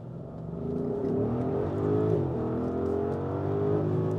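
A 2024 Audi SQ7 with a twin-turbo petrol V8 accelerates hard, its engine note rising in a smooth sustained drone that climbs and holds, steady and full from inside the car, with no talking.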